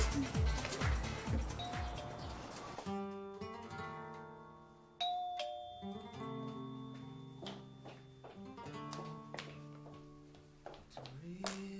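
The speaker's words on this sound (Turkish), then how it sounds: "Zili çalıyorum." A doorbell in a Turkish TV drama scene gives a melodic series of chiming tones, quiet and clear, after a short noisy start.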